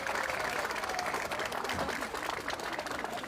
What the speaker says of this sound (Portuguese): Moradores da região e parentes das vítimas que acompanhavam o trabalho aplaudiram os bombeiros